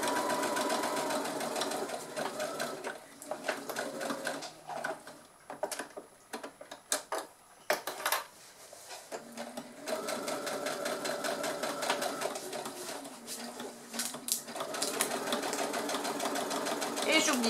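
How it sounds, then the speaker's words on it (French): A sewing machine stitches a tote bag with a steady, close mechanical whir that briefly slows and stutters midway, then picks up its running rhythm again. Faint speech sits under it. "Et on continue la couture."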